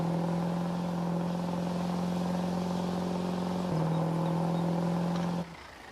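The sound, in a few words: Chevy Silverado Duramax truck driving in Farming Simulator 22 video game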